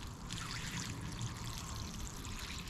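Water pours steadily from a watering can onto very dry garden soil around a newly planted shrub, a continuous close trickling splash with no talking over it.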